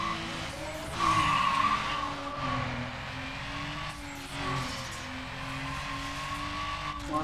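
A race car in Need for Speed Underground skids with squealing tires and a revving engine, loud and sustained, with the tire squeal strongest early on and the engine droning steadily throughout.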